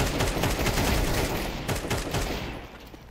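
Dense bursts of automatic gunfire from a video game match with Desert Eagle pistols, rapid overlapping shots loud and close, thinning out toward the end.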